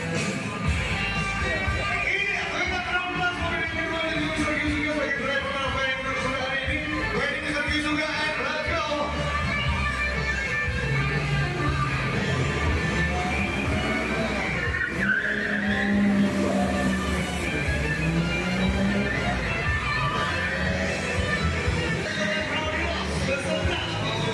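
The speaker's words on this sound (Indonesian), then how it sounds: "kita akan menyaksikan parade mobil Man on Fire" Cars skidding with screeching tires and revving engines during a Man on Fire car parade show at Museum Angkut in Malang, a loud continuous roar and squeal with crowd noise throughout.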